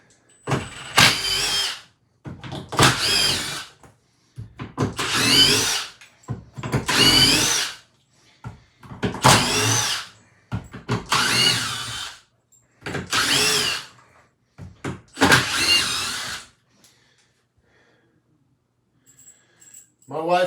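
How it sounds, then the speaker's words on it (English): Power drill backing screws out while a streaming room is being set up, several separate bursts of whirring, each a second or so long, close and fairly loud with short pauses between them. "Let me just keep taking screws out."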